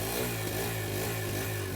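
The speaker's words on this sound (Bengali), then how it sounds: "হালকা থ্রোটল দিলেই বাইকটাকে।" A 2026 Hero Xtreme 160R 4V motorcycle with ride-by-wire throttle runs close by under light throttle, a loud, steady mid-pitched engine drone with faint rhythmic pulsing and no talking.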